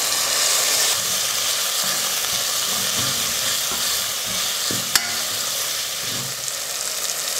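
Chopped tomato frying in a pan with onion and ginger-garlic paste, a steady close sizzle with faint stirring scrapes and one sharp tap of a utensil near the middle, no voices.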